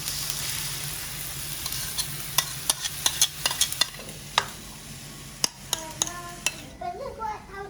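Meatless tapa and an egg sizzle in two separate pans, a steady fry under sharp clinks and scrapes of utensils against the pans, close and fairly loud with no voices.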